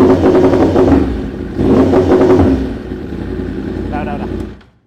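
Yamaha R1M sport bike engine revving hard against a 4000 RPM limiter, loud and close, the rough stuttering roar cutting out and surging in two bursts before dropping to idle and fading.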